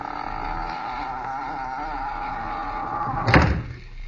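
A steady engine-like drone runs for several seconds before a single sharp door shut lands near the end, a radio drama sound effect set by a boathouse.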